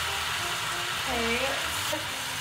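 Pasta sizzles in a hot skillet, a steady broadband hiss with faint scraping as it is stirred, while a person speaks briefly over it.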